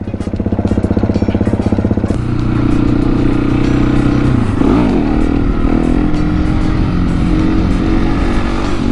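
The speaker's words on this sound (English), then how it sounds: "Cold start, better than yesterday." A KTM 701 motorcycle engine starting from cold and idling, loud and close throughout: a fast, choppy idle at first that settles after about two seconds into a steadier, smoother idle with a brief blip of revs midway.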